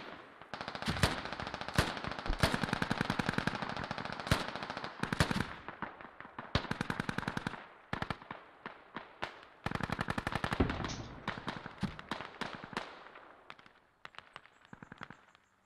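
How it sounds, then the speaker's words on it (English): Sustained machine gun fire in a multiplayer military shooter game on the Narva map, with long dense bursts of rapid shots, loud and close, and brief gaps between volleys. "Looks like we've got some good MG cover."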